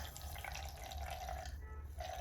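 Water with Mycohelp poured into the reservoir hole of a hoya's houseplant pot indoors in a city flat, a steady close trickling stream that runs continuously, briefly thins, then resumes.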